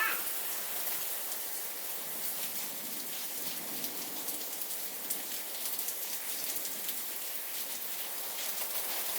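Steady rain falling outside a garage, a constant close patter of drops on hard surfaces with no talk or other sounds over it.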